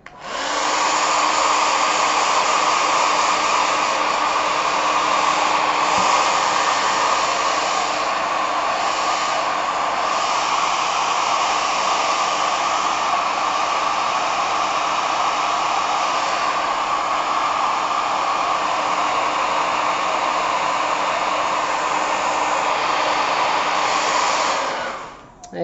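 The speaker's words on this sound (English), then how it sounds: "Now we'll just give it a quick dry." A dryer blows steadily to dry white accent paint on handmade cards, a continuous loud whoosh that holds for about twenty-five seconds before cutting off.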